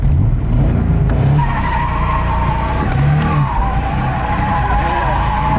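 A BMW E30 drift car with a budget short shifter screeches its tires in a long, loud skid after a clutch kick, with the engine revving hard underneath, close by and steady throughout.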